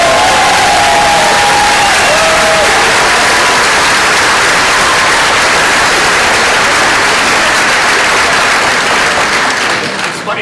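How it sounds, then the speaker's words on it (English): A town hall audience for a Kansas senator bursts into loud, dense applause with some cheering, sustained for about ten seconds and fading slightly at the very end. "Funny, that's an applause line"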